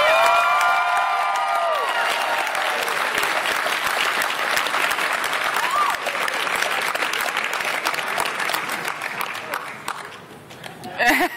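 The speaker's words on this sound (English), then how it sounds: "I just want you to give them all a big round of applause." An audience gives a round of applause for an operations and public safety team: dense, loud clapping with a few whoops, sustained for most of the stretch and then thinning out near the end.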